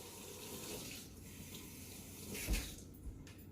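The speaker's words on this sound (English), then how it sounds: "So, there's my rubber scraper. I'm going to give this a bit of a wash again." A rubber scraper is rinsed under a running kitchen tap, with quiet, steady water splashing and a few soft knocks against the sink.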